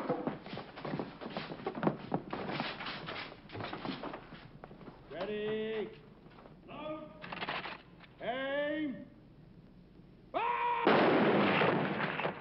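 Gunfire in a war film crackles in scattered sharp bursts and bangs, mixed with shouted voices and other battle noise, fairly loud and irregular.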